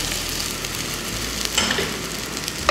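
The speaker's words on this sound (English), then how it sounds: "the onions goes in immediately." Onions go into fully melted oil for an ugba sauce and sizzle steadily and up close, with a few stirring scrapes over the continuous frying hiss.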